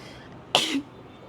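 A single short, sharp sneeze in a truck-stop restaurant in Bolu, Turkey, fairly close and loud against a quiet room, lasting about a quarter second.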